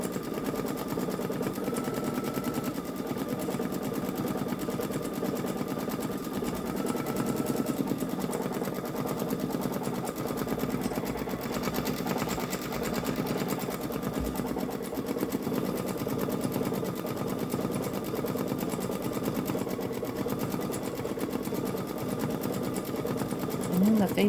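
A Babylock Solaris Vision embroidery machine stitches out a Roblox design, a steady rapid mechanical whirring and needle clatter running continuously at close range, with a voice speaking over it.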